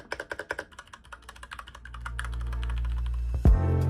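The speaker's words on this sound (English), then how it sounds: "There's something special about typing on one of these" Clicky keystrokes on an Equinix F96 mechanical keyboard tap out at a quick, uneven pace, close and fairly quiet, then a low rumbling hum swells up beneath them toward the end.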